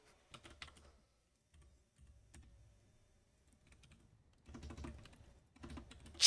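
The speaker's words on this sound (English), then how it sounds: "I am going to go type it into Wikipedia." Typing on a computer keyboard, short bursts of rapid key clicks separated by pauses, close and fairly quiet, with a louder flurry near the end.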